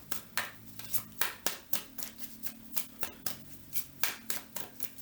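Tarot cards are shuffled close by in a steady run of about a dozen quick, crisp riffling bursts, evenly paced and alone without any talk.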